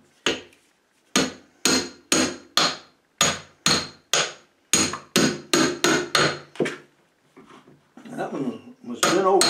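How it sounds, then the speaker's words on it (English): A hammer strikes repeatedly while nails are pried out of tightly held heart pine flooring, about a dozen loud, sharp metallic blows in a steady rhythm, followed by scraping and creaking as a nail gives way. "This heart pine flooring really holds these nails tightly, so oftentimes they need a little encouragement to come out."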